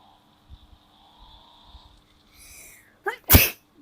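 A single sharp sneeze bursts out near the end, loud and close, following quieter background noise and faint game engine hum during an offroad driving game.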